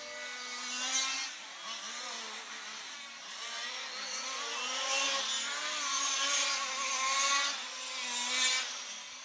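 Large-scale RC touring cars, among them an FG Evo 12 with a Mine engine, race in qualifying at the EFRA Euros; a dense, continuous whine of several small two-stroke engines rises and falls as cars pass, loud and steady throughout.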